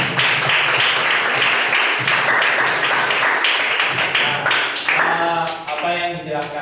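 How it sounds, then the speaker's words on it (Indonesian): A group in a classroom gives a loud, dense round of applause that keeps going for several seconds, then thins out toward the end. "ya, kita kasih tepuk tangan dulu untuk kelompok itu"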